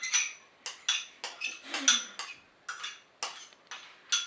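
Spoon scraping and clinking against a pan while stirring sesame oil, garlic and chilli, a series of about ten quick close metallic strokes in an uneven rhythm, with no talking.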